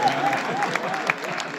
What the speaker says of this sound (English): usually when I do this for my friends, they applaud right about there